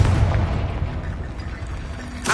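A Confringo spell explosion in the video game Hogwarts Legacy, a loud, heavy rumbling blast that fills the moment and ends with a sharp burst.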